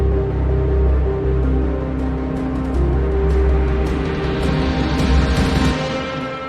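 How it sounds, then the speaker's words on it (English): Heavy melodic dubstep production: sustained layered synth chords swell under a gradually rising filter that brightens the tone, with cinematic drum hits punching through the dense, loud mix. "I throw in these chords here"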